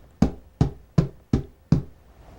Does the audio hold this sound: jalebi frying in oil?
no